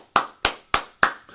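Hands clap in applause, four sharp, evenly spaced claps close by, followed by a fainter fifth, with no voices.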